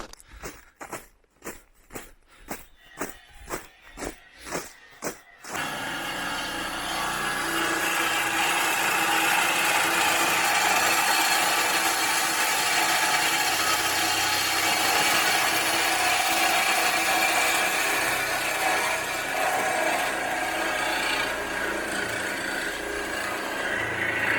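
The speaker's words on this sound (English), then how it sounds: "Walking along in the dark with a reciprocating saw." Reciprocating saw cutting cast iron manifolds at night, a few short rhythmic bursts at first, then one long continuous loud buzzing cut, close and without talk.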